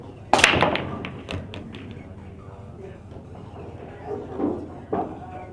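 Pool cues strike balls at Shooters pool hall in Riverside, California: a sharp crack opens, then a few scattered softer clicks and taps spaced out over a low room murmur.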